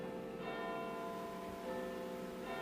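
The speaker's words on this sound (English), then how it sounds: "Is that the chimes of Big Ben I hear?" Big Ben's clock tower bell in London chimes with a steady sustained ringing tone and lingering overtones, faint and distant, with no voices over it.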